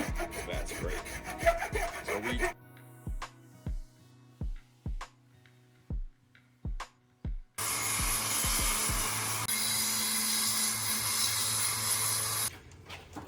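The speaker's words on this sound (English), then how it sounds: "So the sander's not really working because this urethane's so thick on here." A power sander works over thick urethane on the handle of an old splitting maul, heard as a steady close grinding roar after a stretch of scraping and a series of rhythmic rasping strokes.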